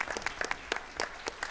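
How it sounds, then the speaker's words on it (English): Sparse clapping from a small audience for election candidates at a civic gathering, a handful of distinct close hand claps in an uneven rhythm, fairly quiet. "I want to have a big round of applause for all the candidates."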